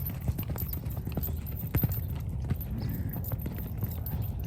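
A gaited horse moving in saddle gait gives a steady run of close, crisp hoof clip-clops at an even rhythm, with faint ambient noise behind.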